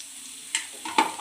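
Finely chopped garlic fries in oil, a quiet steady sizzle with a couple of brief scraping stirs near the end.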